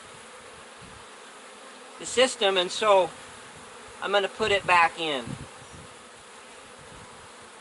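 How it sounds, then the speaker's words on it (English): Honey bees swarm a frame being moved into a transfer box used as an incubator, their steady buzzing droning throughout while a nearby voice talks over it in two short bursts. "So there's our frame with all the bees on it"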